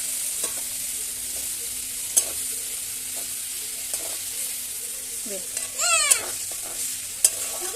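Sliced onions sizzle in hot oil in a small home kitchen where pomfret fish is being cooked, a steady hiss broken by a few scraping stirs and a brief clatter of the spoon, close by with no voices.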